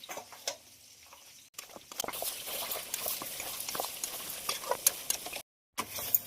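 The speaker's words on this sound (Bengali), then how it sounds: "সবকিছু দিয়ে খুব ভালোভাবে নেড়ে দেবো" Mutton being stirred with spices, ground coriander and salt, in a pan, giving soft scraping and sizzling under a steady frying patter, with a brief silent gap before the stirring resumes.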